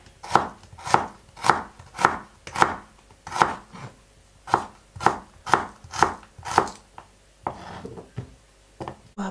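A knife chops onion on a cutting board in a home kitchen while spaghetti with pork and mushrooms is being made, giving about a dozen evenly spaced, crisp thuds near the mic, then a few softer cuts.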